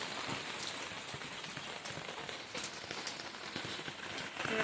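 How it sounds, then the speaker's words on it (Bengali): Rain pours steadily outdoors, a dense even patter of drops striking surfaces with scattered sharper taps. It is fairly soft and continuous throughout, with no voices. "বৃষ্টির মধ্যে বেরিয়েছে, বৃষ্টি হচ্ছে।"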